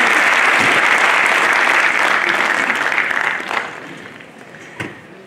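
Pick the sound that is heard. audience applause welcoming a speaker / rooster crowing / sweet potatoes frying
audience applause welcoming a speaker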